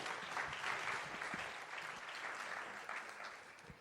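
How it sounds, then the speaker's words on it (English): Applause from an audience at an H-Farm College keynote, a dense, steady wash of many hands clapping that carries through the whole stretch without a break. "Thank you very much. a big applause."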